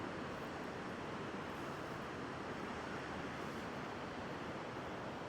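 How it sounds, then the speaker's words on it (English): Surf breaking below Oceanside Pier in California forms a steady, continuous wash of broadband roar with no distinct individual crashes, constant in loudness and tinged with wind noise. "Pretty good waves breaking way down there"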